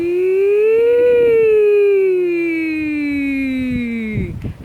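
A single voice imitates a fire engine siren with a long sustained tone that swells slightly, then slowly glides downward before breaking off.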